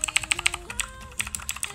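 Typing on a cheap 25-euro mechanical keyboard with blue switches gives crisp, loud, clicky keystrokes in quick, uneven bursts, heard close up with no talk over it.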